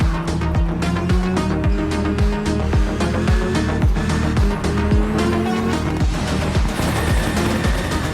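A hybrid-powered rally car in the WRC Generations racing game revs and accelerates hard through rapid gear changes, loud engine notes rising and dropping in quick bursts with tire noise and crashing game effects.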